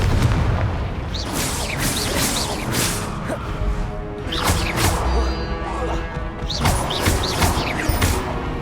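Spell blasts and explosions in Hogwarts Legacy on Xbox One thump and crack in quick succession, with sharp whooshing bursts and booming impacts piling over a continuous rumble while a voice shouts incantations.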